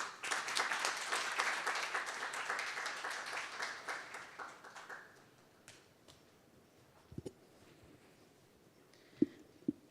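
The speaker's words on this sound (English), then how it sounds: "Please join me giving her a warm round of applause." A conference audience's applause, dense and steady at first, thins out and fades over several seconds, leaving a few scattered claps and knocks.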